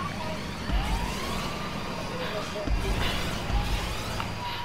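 A video game ambulance siren wails, sweeping up and down amid rumbling traffic noise, moderately loud and steady over a few seconds, with no speech.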